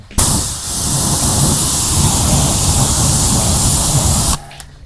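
Gyeon Wet Coat spray-and-rinse is sprayed onto a car wheel in one loud, continuous hiss lasting about four seconds, close to the microphone, ending abruptly.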